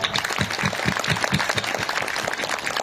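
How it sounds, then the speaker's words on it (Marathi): Audience clapping at a Marathi kirtan, a dense, steady crowd applause lasting the whole moment, with a rhythmic thump underneath. "एकदा कडकडाटून सगळ्यांसाठी टाळ्या होऊ द्या"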